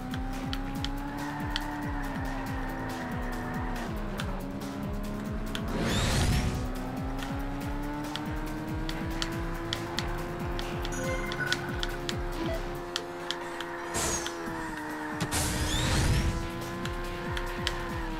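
Car racing in the video game Burnout 2 with a driver's ed car, a steady revving engine whine rising and falling, with tire squeals and skids bursting in twice.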